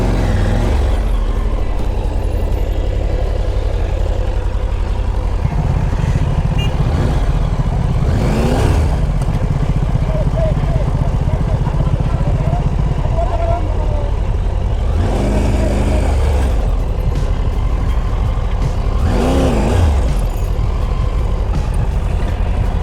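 A Triumph Tiger 900 Rally Pro motorcycle engine at a Triumph India event, idling with a steady low rumble and a few swelling revs, loud and near over busy crowd and traffic noise.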